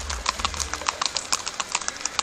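Horse hooves clip-clop on a road in the countryside as the animal is ridden to a party, a quick, steady run of crisp, close hoof strikes with no talking.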